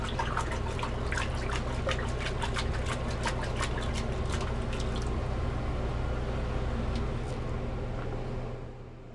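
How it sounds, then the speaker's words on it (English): A freshly forged long hunter knife blade, just dipped in oil, is washed in water, giving a steady sloshing, trickling wash with scattered bright drips over a low hum, close and continuous before fading at the end. "we'll wash it in water"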